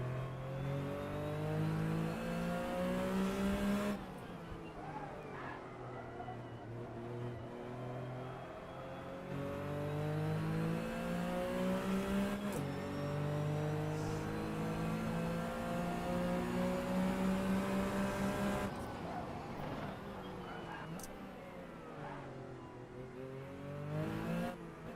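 A race car engine in the Assetto Corsa sim racing game revs hard and steadily, climbing through the gears with sharp drops at each shift, loud and close throughout with no talk over it.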